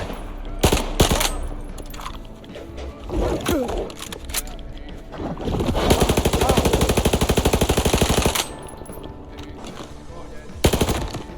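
Bursts of rapid automatic gunfire in the video game STALKER 2, loud and close, with a long sustained volley in the middle and scattered single shots around it.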